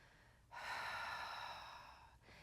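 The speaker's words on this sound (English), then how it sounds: "When we breathe deeply like this, when you're breathing into your low back, you open more chambers in your lungs." A long, deep breath taken during a Pilates breathing exercise, drawn steadily through the lower back and lungs; one sustained, close airy inhalation of about two seconds in a quiet room.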